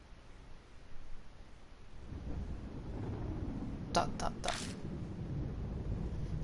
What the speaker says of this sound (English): Thunder rumbles in the distance.